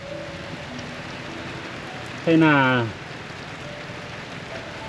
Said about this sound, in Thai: ฝนกำลังตกพี่น้อง